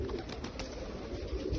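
Pigeons cooing nearby in a pen of many birds, soft low throaty murmurs blending into a steady background of fluttering and rustle.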